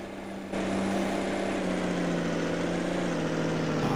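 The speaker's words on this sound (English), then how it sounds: "Turbo's whistling." A tractor in Farming Simulator 19 runs with a steady, loud engine drone under a thin, high turbo whistle that holds throughout, with no talk over it.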